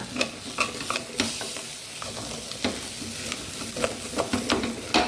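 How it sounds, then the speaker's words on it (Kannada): Turmeric powder stirred into a frying pan while cooking a Mangalorean moong dal breakfast, with a soft sizzle under repeated scraping and clinking spoon strokes, fairly quiet and close, without speech. "ಇಷ್ಟು ಹಾಕಿ ಒಮ್ಮೆ ಹೀಗೆ ತಿರುಗಿಸ್ಕೊಳ್ಳೋಣ."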